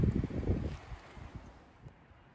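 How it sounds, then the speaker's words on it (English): Strong gusty wind blowing across a microphone outdoors beside beehives, rumbling buffets loud at the start and then easing off into fainter gusts. "it's so windy"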